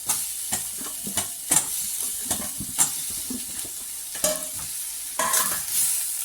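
Cassava pieces are stir-fried in a pan, a steady sizzle broken by repeated scraping and clanking strokes of a spatula at an irregular rhythm, close and fairly loud, with no voices.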